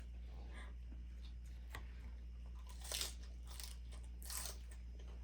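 Someone chewing meat while eating at a family camping cabin, soft crunchy bites and mastication sounds coming close and quiet over a low steady hum, with a couple of louder bites.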